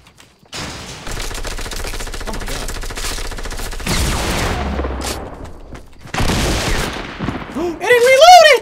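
Double barrel shotguns firing in Fortnite, a run of loud, close blasts and rattling bursts, with excited voices talking and shouting over the gunfire.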